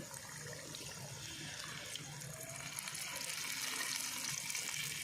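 Water is poured from a cup into simmering tomato curry in a cooking pan, making a steady, continuous splashing and trickling pour that grows slightly louder toward the end, heard alone without talk.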